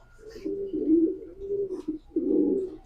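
Racing pigeons coo close by in a few soft, throaty, rolling phrases with brief pauses between them, with no talk over them.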